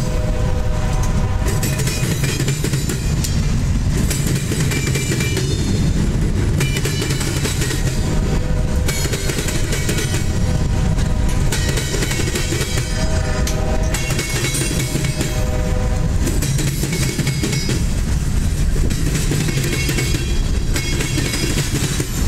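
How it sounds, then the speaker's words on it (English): CSX local freight F761 with CSX 5283 leading rolls southbound across the Norfolk Southern diamond on the Monroe Subdivision at Chester, South Carolina, a loud, steady rumble of railcars with rhythmic wheel clatter throughout. "Local train, F761, heading southbound across NS Diamond, CSX Monroe Subdivision"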